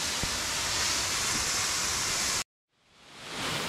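Waterfall in Royal National Park pouring off a rock overhang, a loud steady broadband rush that cuts out abruptly partway, then fades back in to full roar.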